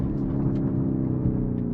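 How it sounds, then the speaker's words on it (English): A 2024 Lamborghini Urus S V8 running in a deep, steady idle rumble, close and continuous with no other sounds. "This car, I'm just gonna start it in manual and Corsa, because it's a Lamborghini."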